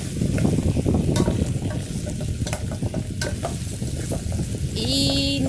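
Okra cooking in a pot is stirred, giving close scraping and sizzling that runs steadily throughout, with a brief tonal beep near the end.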